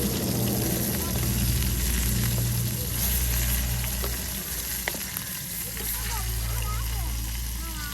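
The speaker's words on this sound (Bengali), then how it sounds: "মাছগুলি উলট পালট করে দেওয়া হচ্ছে যেন একদম করকরে ভাজা হয়ে যায়" Tilapia fish sizzle steadily in hot oil in a village kitchen pan as they are flipped for crisp frying, with a continuous close crackle and occasional scrapes.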